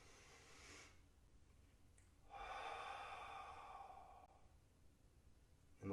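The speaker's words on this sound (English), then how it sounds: "Inhale, inhale. Inhale." Deep inhalations during a qigong exercise for boosting immunity, with a soft airy breath, a pause, then a longer sustained breath, heard close and alone without talk.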